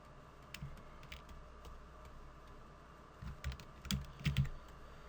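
Computer keyboard shortcut keys pressed while working in Adobe Illustrator, scattered soft clicks followed by a short burst of several firmer keystrokes, close and quiet with no talking.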